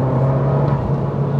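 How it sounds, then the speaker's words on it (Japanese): Abarth 595 with an Akrapovič exhaust running in a changed drive mode gives a steady, loud low engine drone with a strong buzzing tone throughout, close and continuous, with no talking. "マフラーの音もだいぶ変わったな。"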